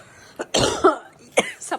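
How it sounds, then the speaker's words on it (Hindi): Coughing from someone ill with a fever at home, several short harsh bursts: a light cough, a strong chesty cough, then two more quick coughs close to the mic, with quiet pauses between. "सबको खांसी हो रही है, तीनों को।"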